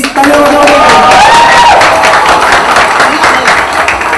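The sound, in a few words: audience applause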